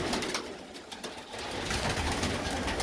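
Pigeons cooing inside a loft, a soft continuous murmur of several birds with occasional wing flutters, heard alone.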